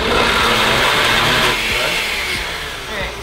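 A kitchen blender whirs steadily while blending a thick smoothie bowl mixture, a loud close motor drone that eases slightly in pitch toward the end.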